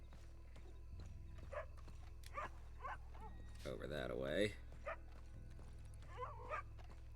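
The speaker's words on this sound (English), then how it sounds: "I hear a dog." A dog barks in the video game Red Dead Redemption 2, a few short barks mixed with horse hoof clops and a brief spoken line.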